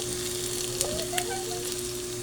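Onion sizzles and fries in a pan for corned beef with potatoes, a dense continuous crackle close up with light stirring clicks, no voices.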